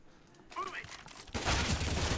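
M4 rifle fire in a video game crackles in a quick burst, then turns into a dense, loud volley, with a voice speaking over the start.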